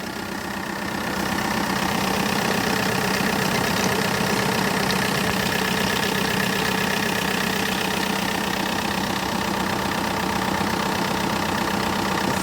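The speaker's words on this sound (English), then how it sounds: "Here we go, this is the engine." A white 2007 Kia Bongo III double-cab diesel with a manual gearbox idles steadily close up, its rough, even clatter continuing unbroken throughout with no voices.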